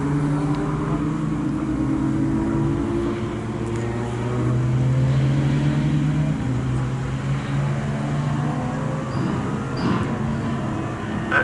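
Ginetta GT racing cars run very close together on a race circuit, a continuous layered engine drone with shifting pitches as the pack passes by, loud and unbroken, with no voices over it.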